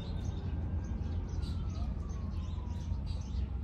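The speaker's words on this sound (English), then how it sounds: "listen to the birds singing" Faint bird chirps and tweets flutter over a constant low rumble of outdoor background noise in Galveston, with no one speaking.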